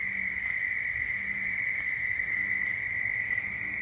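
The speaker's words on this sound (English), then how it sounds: "That's how loud the frogs are in my pond." Frogs calling from a backyard pond form a dense, unbroken high-pitched trill that holds steady and fairly loud throughout, with faint, intermittent low croaks pulsing underneath and no voices.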